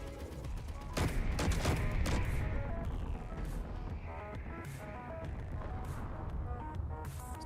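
Heavy gunfire in a video game battle, with dense overlapping bursts of shots and booms at moderate loudness and no clear voices.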